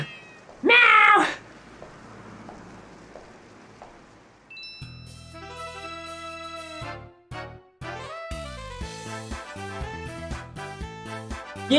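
A person imitates a cat with one loud, short meow near the start. Game music with tinkling tones follows and carries on to the end.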